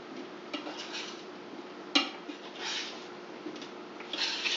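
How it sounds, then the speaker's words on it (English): Roasting potatoes being flipped on a sprayed baking pan: soft scrapes and light clatters of a utensil against metal, with one sharper knock midway and a louder scraping run at the end, all close and fairly quiet. "Go ahead and try and get them all flipped once"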